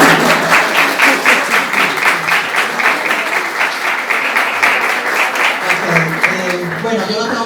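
Sustained audience applause honoring writer Ednodio Quintero at a literary talk, dense steady clapping from a crowd filling the whole stretch, with some voices mixed in beneath it.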